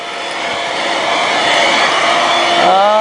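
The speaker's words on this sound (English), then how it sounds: "I wouldn't expect too much out of a small vacuum like this" A Dirt Devil SimpliStik corded handheld stick vacuum runs loud and close with a continuous whirring motor hum, its pitch rising slightly near the end, with no talking.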